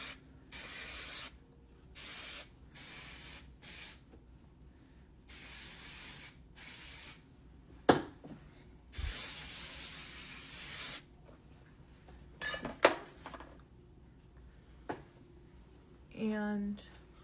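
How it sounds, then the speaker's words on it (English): Several bursts of ColorWow texturizing spray hissing from a can onto wavy hair, repeated short sprays with pauses between them, close and moderately loud, with a few handling sounds. "And I'm going to spray."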